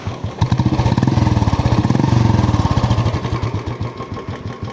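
An old Royal Enfield Bullet with self start runs after starting, its single-cylinder engine thumping in a fast, even beat up close, loud and alone, easing slightly toward the end.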